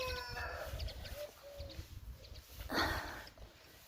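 Village chickens cluck and call in a yard, several short cackles and one louder squawk rising over a low background rumble, fairly close and with no voices.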